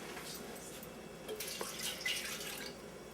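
Water pours and trickles into a saucepan, a faint thin splashing stream that grows a little fuller toward the end, with no voices.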